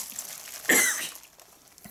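A single cough from a woman in a quiet indoor setting during a pharmacy order unboxing, fairly close and moderately loud, followed by soft rustling.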